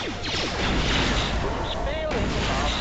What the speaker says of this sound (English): Throw some ion grenades.